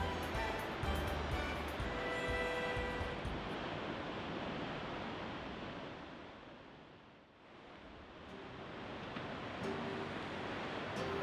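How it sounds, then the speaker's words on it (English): King tide waves rolling in at Shore Acres State Park on the Oregon coast in January, a broad continuous surf roar mixed with wind buffeting the microphone, dipping briefly midway before swelling again. "This January king tide was the third and final one for winter of 2023."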